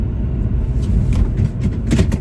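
BMW diesel car engine running while driving around the block, a steady, loud low rumble from inside the cabin with a few faint knocks and clicks over it.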